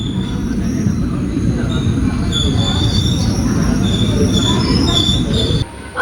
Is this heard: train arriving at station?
yes